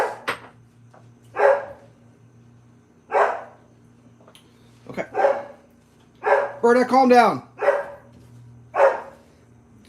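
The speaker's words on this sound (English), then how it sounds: "So that's an animal bark." A dog in a home yard barks at an animal in a series of sharp, loud barks spread across several seconds, with one yelping howl in the middle, and someone speaks briefly between them.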